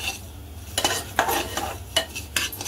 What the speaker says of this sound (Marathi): त्याला सतत असं हलवत राहायचं या लापशीला